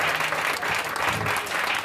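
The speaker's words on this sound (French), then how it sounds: "acclame très fort aujourd'hui." A church congregation at a Wednesday morning sermon breaks into loud, sustained applause, with dense clapping throughout a short burst.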